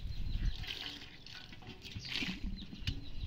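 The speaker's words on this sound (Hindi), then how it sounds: "अब इस पे पानी डालकर अब जाएंगे वहाँ पे इनको डालने, सूखने के लिए डालेंगे" Water is poured and splashed onto wet laundry, including a dupatta, producing soft uneven sloshing and patter close by, with no speech.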